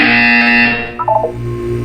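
A loud, harsh electronic buzzer from the video game Portal 2 blares steadily for about a second, followed by a brief warbling tone and a low hum.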